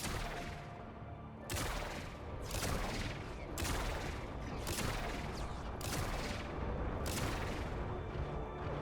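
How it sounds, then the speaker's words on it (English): Heavy automatic gunfire from corrupted heavy gunners in the Warframe video game, as they shoot one another, sounds as a dense fusillade of loud bursts. Sharp volleys recur about every second throughout, with no talk. "They're shooting because this corrupted gunner is radiation procced. They're shooting each other, they're not actually shooting at me."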